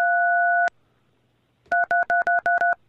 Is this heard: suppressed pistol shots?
no